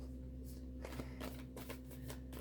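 Tarot cards being shuffled by hand, several soft papery riffles and slides in irregular bursts, quiet and close, over a low steady hum with no talking.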